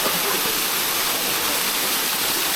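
A steady, full roar of Tada Waterfalls in Andhra Pradesh, continuous and fairly loud, with no voices or breaks.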